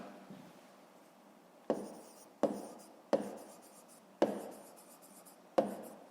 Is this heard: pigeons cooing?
no